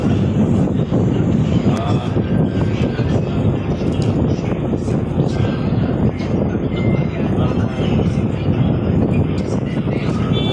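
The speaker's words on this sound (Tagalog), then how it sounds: "Sarap ng hangin dito sa taas guys." Loud, constant wind buffeting the microphone on the upper deck of a passenger ferry bound for Iloilo, with a low engine drone underneath, steady for the whole stretch.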